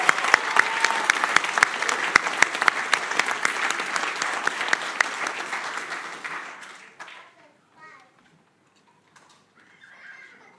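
A council chamber audience applauds newly elected councillors at an inaugural meeting, loud sustained clapping with a few sharper claps that dies away after about seven seconds, followed by quieter murmuring and shuffling.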